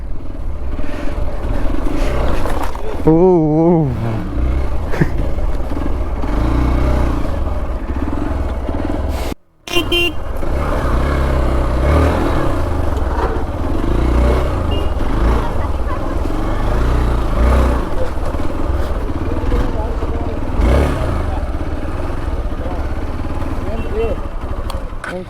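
A motorcycle engine runs nearby, a steady low rumble that continues throughout while people talk over it, with one brief dropout partway through.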